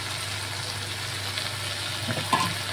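Spices for a chicken curry fry in a pan over a medium gas flame, giving a quiet continuous sizzle with faint stirring scrapes near the end.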